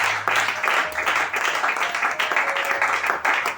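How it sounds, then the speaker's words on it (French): A church congregation applauding, dense continuous clapping from many hands that stays loud and even throughout, with a faint sustained tone under it. "Acclamez très fort pour la gloire de Dieu."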